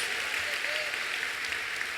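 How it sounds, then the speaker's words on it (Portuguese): A church congregation clapping steadily and loudly, a dense patter of many hands with faint voices mixed in. "Aplauda ao Senhor bem forte."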